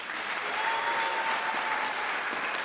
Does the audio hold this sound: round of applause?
yes